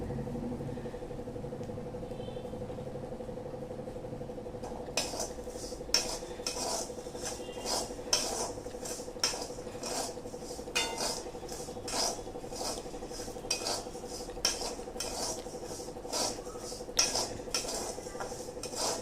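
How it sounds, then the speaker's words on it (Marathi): Coriander seed dal dry-roasting in a pan, stirred with a utensil that scrapes and taps the metal in a steady rhythm of sharp clicks over a low hum, close and moderately loud. "धणा डाळ पण छान कोरडी करायची भाजून भाजून"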